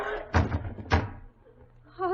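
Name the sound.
radio drama sound effect of someone falling against a front door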